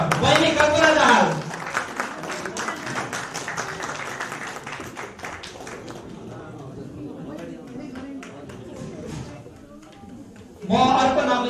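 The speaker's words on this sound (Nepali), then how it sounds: "अझै जोरदार तालीको आवश्यक छ।" Audience applause at a conference in Darjeeling, a dense burst of many clapping hands that fades to a thinner patter as a voice speaks over the stage, then a loud announcer voice returns at the end.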